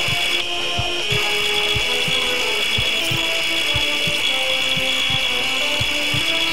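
Surgical saw in the video game Surgeon Simulator, a steady rasping whir with regular low thumping strokes and faint mechanical clicks, sustained and fairly loud throughout.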